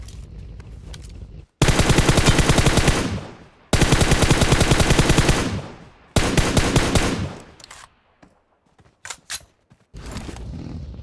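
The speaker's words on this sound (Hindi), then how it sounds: "यहाँ सामने से हो रही थी फायरिंग" Automatic gunfire from PUBG Mobile rattles out in loud, dense sustained bursts separated by short pauses, with a few scattered single shots and a final burst near the end.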